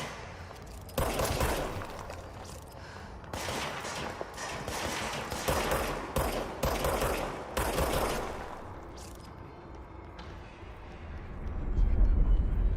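Enemy gunfire in the video game Control, dense bursts of shots crackling through the middle of the stretch, fading toward the end, with a voice talking over it.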